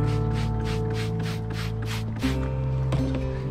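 Rapid, evenly spaced hissing spritzes from a spray bottle of half detergent, half water, about eight quick squirts in a row over a steady background hum.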